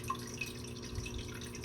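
Water from a fish tank filter trickles and drips steadily in the background, a faint, continuous burble with small splashes scattered through it and no voices.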